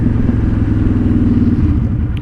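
A Honda Shadow motorcycle fitted with a Cobra Streetrod exhaust rumbles steadily in a low, throaty drone while riding into the wind, loud and continuous with no voices.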